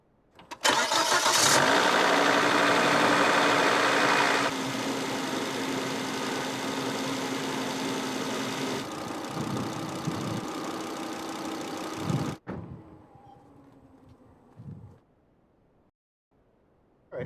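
A 2004 Volvo S80 engine cranks and fires after a spark plug replacement, surging loudly at first, then settling into a steady idle for several seconds before cutting off, leaving faint handling noises.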